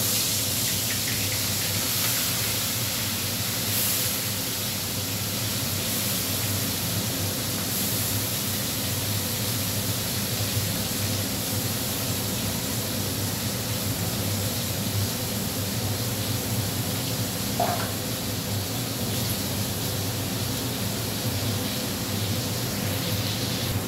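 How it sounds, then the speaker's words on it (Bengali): Prawns from Digha frying in a pan, a constant even hiss of sizzling oil that holds steady throughout with no voices. "দেখো চিংড়ি মাছগুলো ভেজে নিচ্ছি।"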